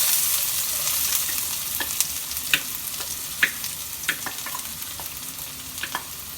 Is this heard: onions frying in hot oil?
yes